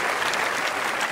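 A studio audience at a live German Sunday TV entertainment show claps for a singer celebrating an anniversary. The applause is short, dense and even, filling the moment without a break.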